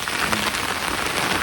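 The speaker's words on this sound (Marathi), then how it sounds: "आता पाऊस सुरू झाला आहे." Steady rain falls on a paddy field planted with 312 rice, a dense, even hiss of drops close by with no talking.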